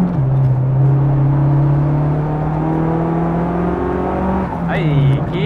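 A race car engine drones loud and close from inside the car on a track, holding a steady pitch and then rising as it accelerates, with an instructor's voice talking over it.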